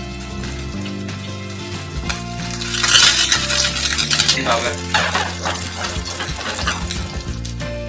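A Chaozhou oyster pancake made with sweet potato starch fries over low heat in a pan, a soft continuous sizzle with scraping and clinks of a utensil against the pan, as a voice briefly speaks.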